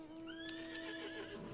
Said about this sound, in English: Flying horse away!